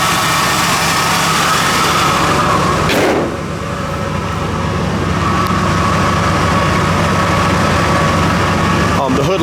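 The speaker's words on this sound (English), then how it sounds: "We do have a little bearing noise, it sounds like, coming from that air conditioning compressor." A 1966 Impala engine idles steadily at close range with a faint bearing whine from the air conditioning compressor, broken by a short dip near three seconds.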